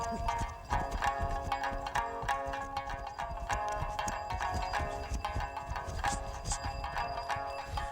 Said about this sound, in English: The Mustang horse has a special way of trotting.